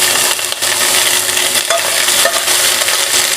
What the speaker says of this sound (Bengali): এবার লঙ্কাটাও একটু হালকা ভাজা হয়েছে, এর মধ্যে আমি পেঁয়াজটুকু দিয়ে দেবো